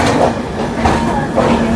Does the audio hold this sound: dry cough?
no